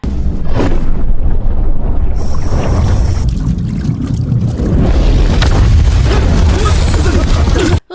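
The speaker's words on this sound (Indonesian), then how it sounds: "Kapal mereka ditabrak." A shark slams into a boat in a film, a loud, sustained crashing roar of churning water and impact filling most of the moment before cutting off abruptly near the end.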